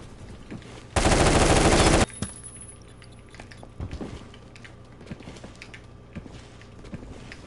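Automatic gunfire from an assault rifle in the online shooter Phantom Forces: one loud, dense one-second burst, then quieter scattered clicks and footstep-like taps.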